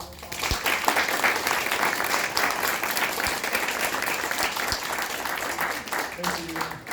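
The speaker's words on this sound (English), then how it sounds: "we could just give the panelists a big round of applause" A crowd of audience members claps for a panel of speakers at the close of a sustainability discussion, a dense, sustained round of applause at moderate distance that keeps going for several seconds, with a few voices mixed in.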